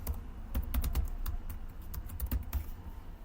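Code typed on a computer keyboard for a full-stack student CRUD app, a rapid run of close key clicks over a steady low hum, with no talk.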